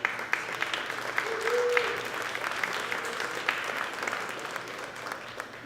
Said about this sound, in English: If I could get a big round of applause for our sponsors tonight.